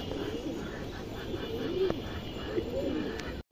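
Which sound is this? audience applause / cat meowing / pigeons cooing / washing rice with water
pigeons cooing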